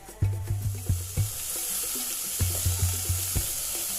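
Salted pork cooking down in a pan until its liquid dries, a steady close sizzle punctuated by rhythmic knocks and scrapes of a utensil against the pan in two short bursts.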